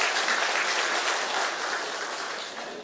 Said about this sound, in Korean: 그래서 일단 박수 한번 해주실까요?